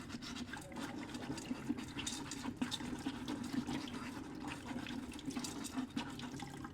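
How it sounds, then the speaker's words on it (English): Water running steadily through a sieve while soil is wet sieved, a continuous close splashing, trickling stream with no talk. "you can see the water that is coming out from that sieve is more or less clear"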